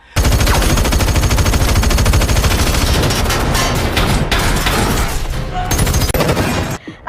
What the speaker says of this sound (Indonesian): Aksinya kembali terhenti karena Ballet menembakinya